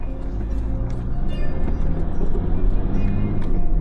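A 4x4 vehicle cruising on tarmac after long stretches of dirt road, a loud, steady low engine and road rumble heard from inside the vehicle.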